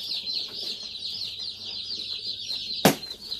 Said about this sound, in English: we're going to get these birds out of the boxes